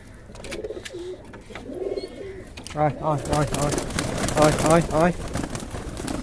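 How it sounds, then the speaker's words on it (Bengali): Pigeons returning to their coop to be fed coo in low, soft, repeated phrases nearby, and a person talks over the later part. "চলেন কবুতরগুলোকে আগে খাবার দিই"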